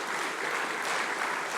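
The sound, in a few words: audience applause for research awardees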